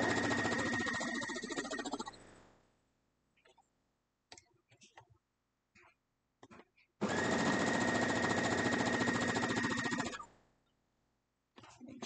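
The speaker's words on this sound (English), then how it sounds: "So now we're going to sew this up." Sewing machine stitching a Homeward Bound quilt block in two fast steady whirring bursts, one opening the clip and one in the middle, separated by quiet handling of fabric and faint soft sounds.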